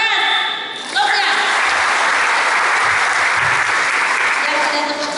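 Loud, sustained applause fills a crowd gathering in Tomohon city, rising after a brief voice at the start and holding steady and dense to the end.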